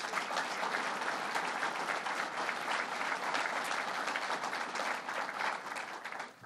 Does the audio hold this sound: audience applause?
yes